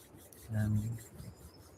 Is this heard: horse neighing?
no